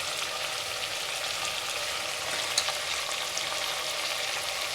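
Chilli powder and spice added to hot oil, sizzling with a soft continuous hiss and fine crackle like light rain, fairly quiet, with no voices.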